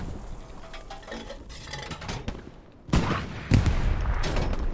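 Gunfire in the World War II shooter Hell Let Loose, scattered distant shots and rattling bursts building to two sharp, louder close volleys, amid clattering equipment noise and no talk.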